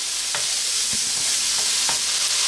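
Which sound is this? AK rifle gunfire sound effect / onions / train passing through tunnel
onions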